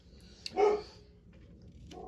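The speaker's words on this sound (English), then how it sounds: "you can hear my dogs in the background barking" Dogs barking indoors in the background at something seen out a window, with one short, faint bark and a few quieter yips at a distance.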